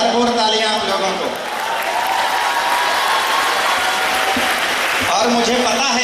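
Audience at a kavi sammelan poetry gathering applauding, a dense sustained wash of clapping that runs through the whole stretch, with a voice heard briefly near the start and end.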